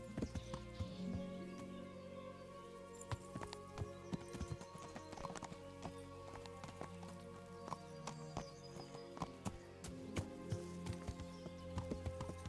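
Horse hooves clip-clop in a steady walking rhythm in the medieval video game Kingdom Come: Deliverance. The clear, close hoofbeats repeat throughout, with faint background ambience.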